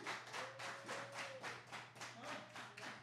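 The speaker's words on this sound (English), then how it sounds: "And the fans clapping." Wrestling fans clapping in unison in the Sports Arena in Bluefield, West Virginia, a rhythmic chant-like clap repeating roughly every half second at moderate distance, with a sustained tone droning underneath.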